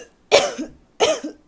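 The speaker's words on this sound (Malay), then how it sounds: "dia terdengar batuk dari ruang ayahnya" Two harsh coughs, close and loud, separated by a short pause.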